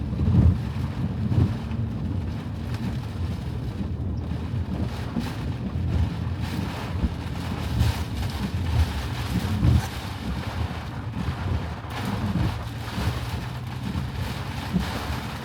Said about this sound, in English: so this is a lot of water